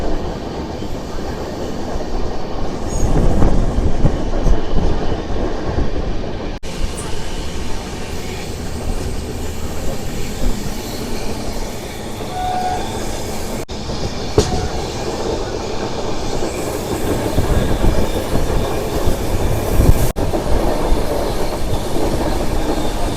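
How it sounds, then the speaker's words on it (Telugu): A passenger train rolls along after departing Jhansi Junction, with continuous loud rumbling and rhythmic clickety-clack of wheels over rail joints heard from inside the carriage. "మన ట్రైన్ వచ్చేసి ఝాన్సీ జంక్షన్ నుంచి అయితే బయలుదేరిపోయింది"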